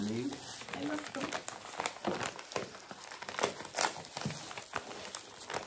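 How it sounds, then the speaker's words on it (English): Crinkling of packaging handled close by, irregular crackles and rustles running throughout, with a person talking over it. "Sorry for the crinkling."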